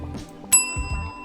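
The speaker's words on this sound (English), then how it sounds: "I'm going to ring that bell again" A single bell is rung once, giving a sharp bright ding that rings on with a long steady tone, while low room noise and faint thumps continue underneath.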